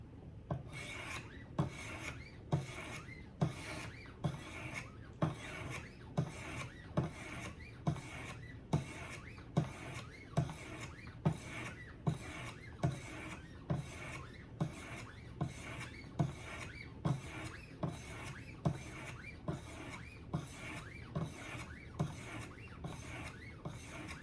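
A knife blade is sharpened on a Wicked Edge Go sharpener, working the right side to raise a burr. Even, rhythmic rasping strokes repeat about once a second, each a dry scrape against the stone, close and quiet, with no talking.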